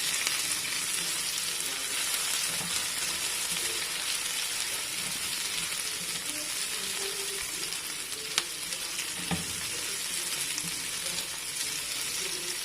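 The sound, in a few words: chopped onion frying in olive oil in a frying pan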